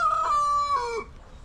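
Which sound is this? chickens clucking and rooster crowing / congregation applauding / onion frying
chickens clucking and rooster crowing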